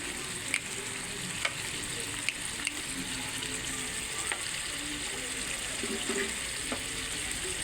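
Tomato sauce going into pork caldereta in a hot pan: a steady, loud, close sizzle and fry runs throughout, with a few sharp utensil clicks now and then and no voices.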